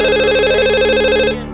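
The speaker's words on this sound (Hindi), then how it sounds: "फोन देखो" A telephone rings indoors in a home, a close, loud electronic trilling tone that warbles quickly for just over a second and then stops.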